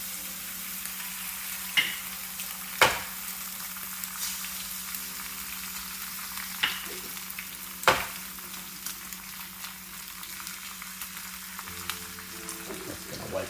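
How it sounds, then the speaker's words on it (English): Eggs frying with sucuk in a single pan, a steady close sizzle broken by a few sharp clicks and knocks of cracking and stirring. "Let's crack our eggs then."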